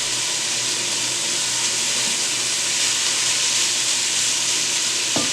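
Cabbage frying in a pan for Southern fried cabbage, a steady, dense sizzle and hiss that stays even throughout, with a brief clink near the end and no talking.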